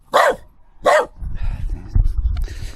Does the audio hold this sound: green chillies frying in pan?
no